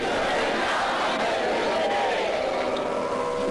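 A large outdoor crowd cheering and shouting for the president in Guinea, a continuous dense roar of many voices at steady volume.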